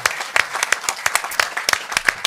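A modest audience at a heritage society photo evening claps for the speakers, the applause sparse enough that individual sharp hand claps stand out in an uneven patter.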